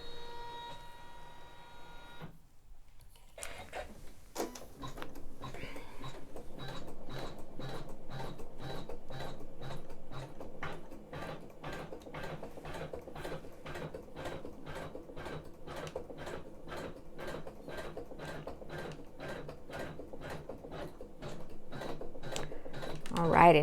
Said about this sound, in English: Basting's turned on, and let's go ahead and sew.